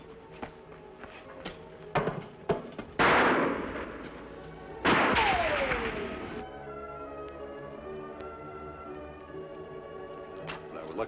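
Gunfire rings out in a Western shootout, several sharp shots spaced over a few seconds, two of them louder with long echoing tails, set against a faint background score and some speech.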